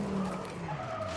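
A rally car in a rally simulator game skids with a sustained tire scrub over a steady engine drone, loud and continuous for about a second.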